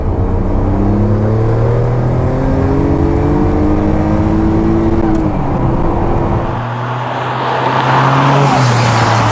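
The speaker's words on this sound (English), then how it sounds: "I'll just give you a listen to how that engine sounds" A Noble M12 GTO-3R's six-cylinder engine revs up loudly with a rising, steady drone, easing briefly before climbing again, heard close from inside the car.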